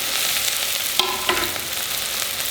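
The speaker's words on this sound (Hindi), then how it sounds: "इसमें रिफाइन में छौंक डाला गया है," Onion and chili sizzle as they temper in hot refined oil, a steady loud frying hiss close by with a couple of brief clinks of stirring.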